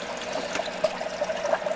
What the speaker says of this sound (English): You can see they're draining out there.